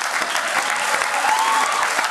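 Brief, loud, dense applause rises from a studio audience at a student quiz show, steady clapping with a faint background voice.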